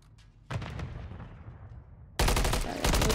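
Gunfire in a Call of Duty: Modern Warfare III ranked match on the Terminal map: a sharp opening shot with a fading tail, then a loud sustained burst of rapid automatic fire, with no talking.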